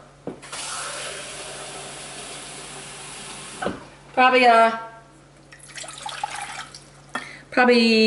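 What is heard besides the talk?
tap water running into a pan for soup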